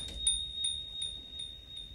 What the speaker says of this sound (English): I've also got this bell sound